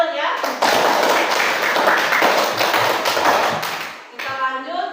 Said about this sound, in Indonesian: Ya, baik, tepuk tangan ya.